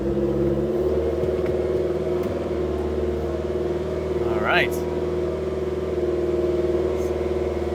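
A Mitsubishi Eclipse GSX engine idles high just after a cold start, a steady droning hum held close by with a brief rising whine partway through, while someone says a couple of words over it.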